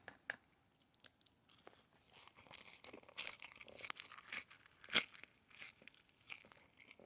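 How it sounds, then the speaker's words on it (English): Close, loud crunching as someone chews crispy hot-seasoned fries, a few sparse bites giving way to dense, irregular crackles and crushing sounds that come in bursts, with no voices. "You can hear that crunch."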